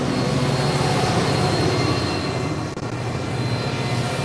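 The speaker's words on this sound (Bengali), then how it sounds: "ট্রেন থামল রামনারায়ণপুর স্টেশন।" A train rumbles in a continuous low roar as it comes into a station, heavy and steady, easing off briefly near the end as an audio drama effect.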